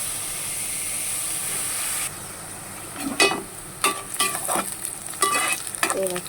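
Onion going into hot oil for a tempering (phodni) while cooking a wild bharangi leaf vegetable, giving a steady hiss, then a rush of sizzling with several sharp crackling bursts in the second half, close and fairly loud with no talk.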